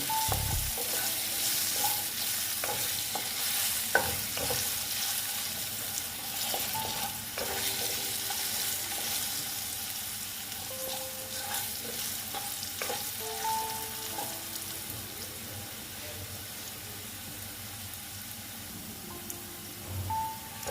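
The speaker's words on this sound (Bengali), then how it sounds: "হলুদ দিয়ে আলুগুলো সুন্দর করে ভেজে নেব" Potatoes coated with a little turmeric frying in a pan, a continuous close sizzle with intermittent scraping and stirring knocks throughout, no talking.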